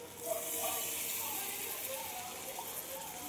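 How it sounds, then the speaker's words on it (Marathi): Water is poured into a pan of cooking flat bean curry, a soft continuous gushing hiss held at a steady, fairly faint level for a few seconds. "थोडासा पाणी टाकूया।"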